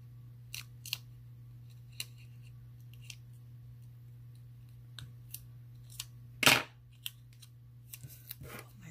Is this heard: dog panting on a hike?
no